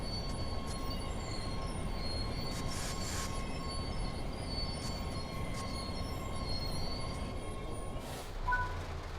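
A train in the Train Sim World 4 game, on the Edinburgh to Glasgow route, slows to a stop. A steady, loud rail rumble runs throughout, with high wheel squeals and a brief brake hiss near the end.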